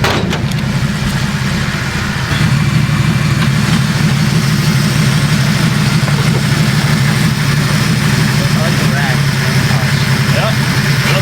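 A Mercury Montego-style wagon's engine idles loudly and steadily up close under the open hood, with a constant low rumble that thickens after a couple of seconds.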